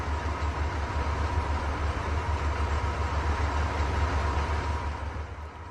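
A heavy truck engine in the Euro Truck Simulator game runs continuously with a deep, steady drone, loud and unbroken, easing off slightly near the end.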